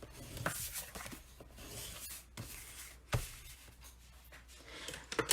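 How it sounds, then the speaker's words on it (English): Paper being folded along a score line during a stamping card-making class, a series of close dry rubbing and crinkling swipes with a few sharper creasing snaps, no voices. "let's go ahead and fold this on the score line"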